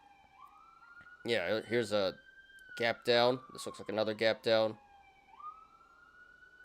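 Emergency vehicle sirens pass outside, their wailing tone rising and falling steadily at a distance while someone talks indoors over them.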